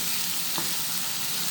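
Onions frying in oil until golden, a steady hissing sizzle heard close, with one brief stirring scrape partway through and no voices.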